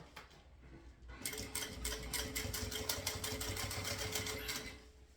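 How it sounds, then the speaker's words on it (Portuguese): A sewing machine starts after a quiet second and runs steadily, stitching back and forth on a seam of synthetic material for a shoulder bag, its rapid needle rhythm close and even. "vou dar 2 retrocessos pra chegar até no final lá da costura"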